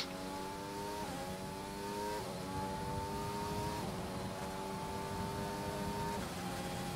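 Formula One racing cars in a racing video game on the Monza circuit, a near engine's high whine climbing steadily and dropping with each gear change, repeated several times over a constant roar.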